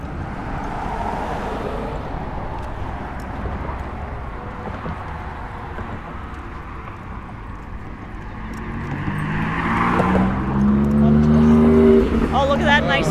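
A blue Porsche drives past on a beach road, its engine rising from a steady traffic hum to a loud, close pass that ends the moment, with people talking outdoors.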